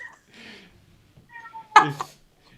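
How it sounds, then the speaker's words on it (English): A pet cat gives a couple of short meows in the background, faint and a little distant, with quiet gaps around them and no speech over them. "she's literally like meowing so hard in the background"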